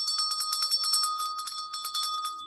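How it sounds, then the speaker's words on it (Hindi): A bronze bell is rung rapidly and continuously, its bright metallic strikes overlapping in a steady shimmering peal, close and fairly loud with no talking. "ये कांसे की घंटी है"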